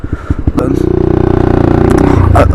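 A Lexmoto 125cc motorcycle engine on a ride to school, running with a steady, loud, throbbing drone that holds and rises slightly after a few short bursts at the start, with some talk at the beginning.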